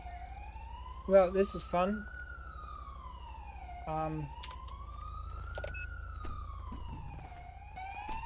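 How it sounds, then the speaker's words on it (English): A wailing police siren in LSPDFR, a police patrol mod for a driving video game, rising and falling steadily in a slow sweep throughout, with someone speaking briefly over it and some keyboard clicks. "I'm going to fucking lose my shit if I have to listen to that fucking siren anymore"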